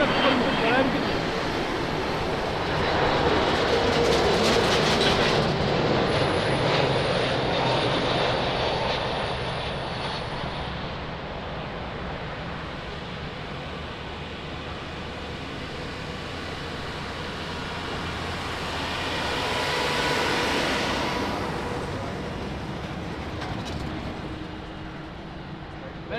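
An airplane lands at Lisbon Airport with a broad, steady engine roar that swells around the middle and again near the end, while people talk over it throughout.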